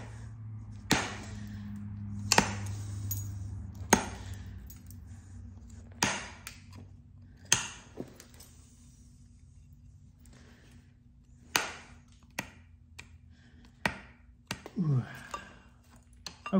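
Flint knapping on a corner-tang stone knife: a dozen or so crisp, sharp clicks and taps of stone striking stone, spaced irregularly a second or two apart over a quiet, faintly humming background.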